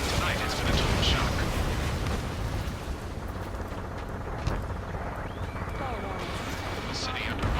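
Rumbling gunfire and roaring jets over a city under martial law in the video game Ace Combat 7, a dense, continuous wall of noise with scattered bursts, heard under a speaking voice.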